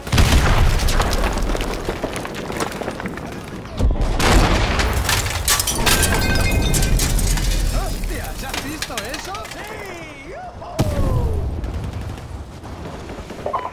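Loud tank cannon blasts open the clip in Call of Duty: Modern Warfare Remastered, followed by rumbling explosions and scattered booms from combat, with radio-style voices talking over the action.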